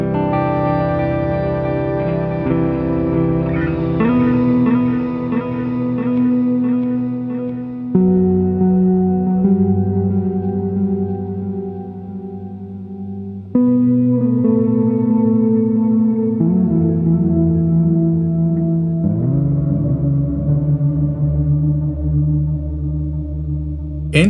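Electric guitar through the Line 6 Helix Native 'Dusted' preset, strumming loud sustained chords drenched in echo, reverb and chorus, with a few chord changes over a continuous wash of effects, no voices.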